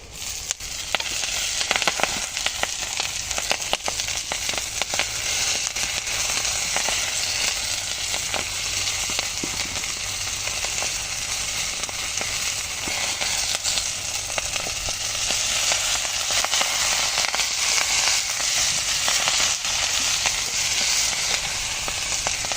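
Greens tossed into hot oil with fried coconut and green chili on a brick stove, sizzling and crackling loudly and steadily for the whole stretch, close up with no voices.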